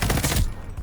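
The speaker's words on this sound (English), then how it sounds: "I'm dying to this shotgun dude, bro." A burst of video game shotgun fire, a loud rapid cluster of blasts in under half a second that quickly decays into quieter ambience.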